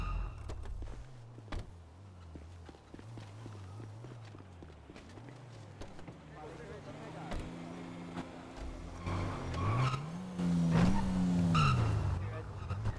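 Tire squeal from a car in GTA V roleplay, rising pitched screeching near the end over engine rumble and footstep-like thumps, with a police chase setting and radio chatter around it.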